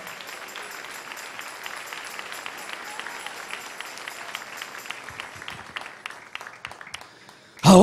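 Congregation applauding in a church service at night, a steady wash of clapping hands that holds through most of the stretch, then thins out near the end before a sudden loud burst.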